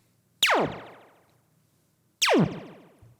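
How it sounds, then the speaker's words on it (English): Two laser zaps synthesized in Serum fire a couple of seconds apart, each a sharp pitch-dropping pew that quickly fades, clean and isolated against silence. "make a cool laser zap sound in Serum"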